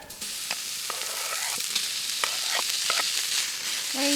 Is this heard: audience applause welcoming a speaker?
no